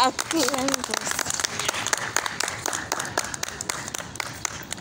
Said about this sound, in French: Acclamons d'abord pour le Seigneur.